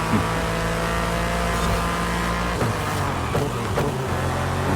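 A Cadillac race car's engine in the racing game Forza Horizon 5 drones steadily and loudly throughout, a sustained engine roar with slight shifts in pitch and no pauses.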